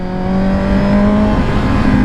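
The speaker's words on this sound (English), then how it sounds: "So let's hear the exhaust under the bridge, guys." Motorcycle with an Akrapovic carbon exhaust, a loud, close, steady engine drone echoing under a bridge for about two seconds.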